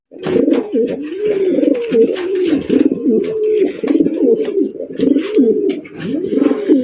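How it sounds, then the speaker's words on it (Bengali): A pair of Baghdadi pigeons coos close by, with deep, rolling, overlapping coos repeating steadily and almost without pause, and no voices. "দেখেন ব্রিটিশের একজন বাগদাদি কবুতর মাত্র অনলি 1800 টাকা"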